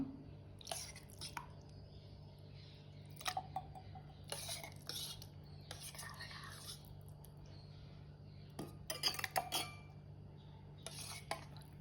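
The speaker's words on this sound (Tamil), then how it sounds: "இப்போ நாங்கள் முதல்ல வெட்டி வச்சுருக்க ஜெல்லியை வந்து போட்டுக்கொள்வோம்" Cut jelly being spooned into a tall falooda glass, with several light clinks and taps of a metal spoon against glass spaced across a low steady background hum, moderately close and fairly quiet.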